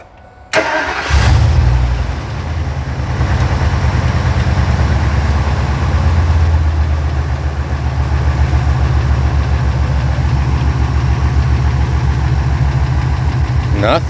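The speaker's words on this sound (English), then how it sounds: "I'm going to start the vehicle." A 1999 Ford F250 V10 truck engine cranks and catches within the first second, then settles into a steady, loud, rumbling idle that continues to the end while its ignition coils are being tested.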